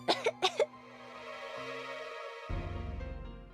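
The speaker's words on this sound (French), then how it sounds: "Et qui tousse comme ça?" Someone coughs in a quick burst of four harsh coughs close by, followed by low sustained background music.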